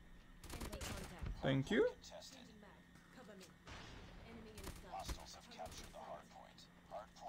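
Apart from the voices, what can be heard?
Swordfish gun firing in video game Call of Duty Mobile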